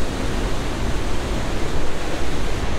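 A waterfall of sewage water, a loud steady broadband roar of falling water that continues without break, with no voices.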